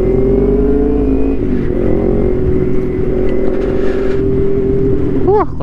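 A loud motorcycle engine drones steadily up close, its pitch holding and shifting as it revs, with brief voices near the end.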